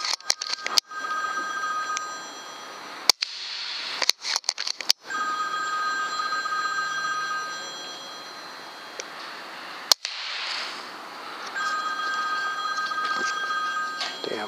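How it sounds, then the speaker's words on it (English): A telephone bell rings in repeated bursts, broken by sharp bangs and brief gaps, loud and close. "Phone."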